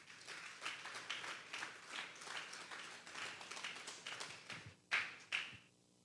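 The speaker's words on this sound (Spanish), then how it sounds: "Vamos a darle un fuerte aplauso al Señor" A church congregation applauds during a Sunday service, a soft, fairly distant patter of many hands in uneven bursts that fades out near the end.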